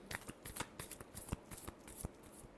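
Tarot cards shuffled close up in a quick, soft series of riffling flicks and taps over about two and a half seconds, fairly faint.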